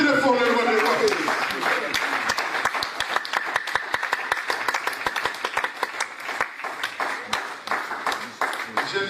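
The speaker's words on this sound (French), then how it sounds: "Acclamons très fort le roi des rois." A church congregation claps steadily and loudly in a long rhythmic run of applause, with a voice speaking briefly at the start.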